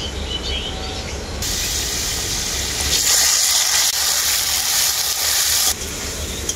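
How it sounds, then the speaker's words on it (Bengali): Potatoes fry with a mustard and cumin paste in a pan, making a loud, continuous sizzle that swells and eases as it is stirred, close by with no talking. "সরষে আর জিরেটাকে আমি আলুর সাথে খুব ভালো করেই ভেজে নেব"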